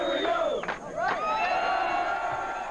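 A rowdy crowd of Pittsburgh Steelers fans packed into a restaurant in New Cumberland yells and whoops loudly and continuously, with rising shouts and cheers close by and some voices mixed in.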